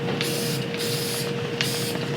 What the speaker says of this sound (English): when you do a lot of spraying,